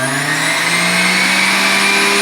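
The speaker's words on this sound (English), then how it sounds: "This is a high-speed centrifugal ejection juicer." High-speed centrifugal ejection juicer running with a loud, steady high-pitched motor whine and whirring hum, close and continuous with no talking.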